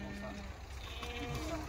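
A Kathiyawadi goat bleats faintly at a goat sale, a couple of short wavering calls rising over low background murmur and nearby voices.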